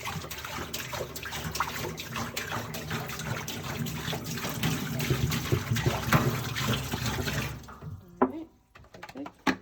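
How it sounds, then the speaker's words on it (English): Running water from a tap pours into a sink as one gallon fills it, a loud, steady rushing gush that lasts about seven seconds before the flow stops, followed by a few faint knocks and splashes. "we'll fill up our sink with our 1 gallon."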